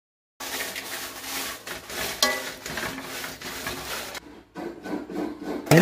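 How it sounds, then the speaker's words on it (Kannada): Chillies are roasted in oil in a pan for a catfish curry, giving a continuous dry rustling sizzle with scraping as they are stirred, briefly pausing before resuming close and steady. "ಈಗ ಪಾತ್ರೆಗೆ ಸ್ವಲ್ಪ ಎಣ್ಣೆ ಹಾಕಿ ಮೆಣಸನ್ನು ಹುರಿತೇನೆ"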